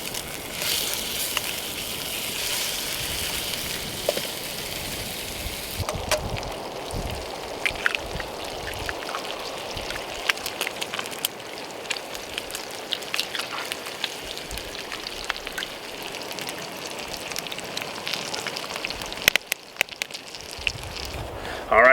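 Three sausage patties fry on a griddle at a desert car camp, crackling and popping in a steady spatter of sizzle with sharp scattered pops, close up, and a voice speaks at times.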